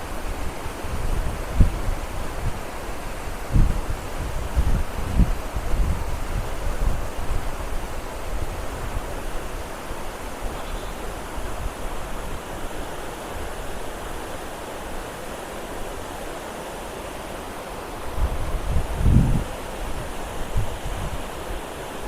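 Gandahati waterfall in Odisha pours in a steady, full roar of falling water, with occasional low thumps and wind gusts against the microphone.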